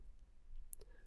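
A single soft mouse click on a Save button, quiet and brief, set against faint background hiss with no voices.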